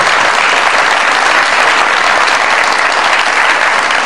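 Studio audience on a comedy show gives a guest a loud, dense, unbroken round of applause from start to finish.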